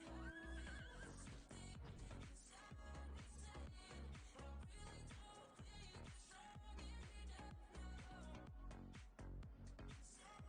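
A horse whinnies loudly in the video game Final Fantasy XIV while hooves clip-clop steadily underneath, all set against a dense, busy game soundtrack.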